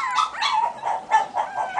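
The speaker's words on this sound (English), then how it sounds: "Did you hear that puppy crying over there?" A Yorkie puppy cries in a run of short, high whimpering yelps with small pauses, fairly close and clear, with no talk over it.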